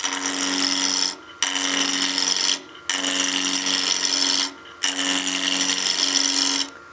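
A spindle roughing gouge cuts wood on a lathe in a continuous loud rasping scrape, broken by four short pauses as the tool lifts and returns.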